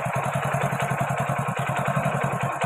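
A Hero Splendor BS6 motorcycle engine idles steadily at around 1270 rpm, a close, even low putter with a regular pulsing rhythm and light mechanical clatter throughout, no voices.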